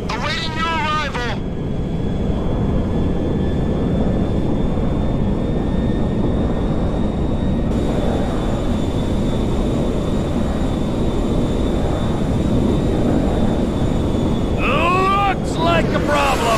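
A cargo jet lands in the video game GTA 5, with a loud, steady engine roar and wind rush that lasts the whole stretch and thin whining tones on top.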